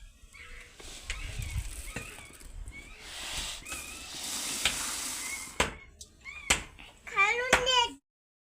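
Puffed rice roasting in oil in a pan over a wood-fired stove for Diwali chivda, with a soft sizzle and scraping stirs, some clanks and a few chirpy high squeaks near the end.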